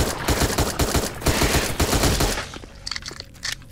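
Rapid bursts of automatic gunfire in the dinosaur horror game Dino Trauma, loud and rhythmic for about two seconds before cutting off, leaving a few faint scattered clicks and taps.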